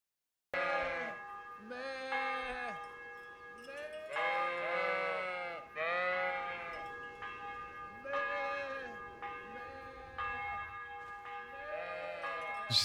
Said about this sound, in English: Just chasing sheep.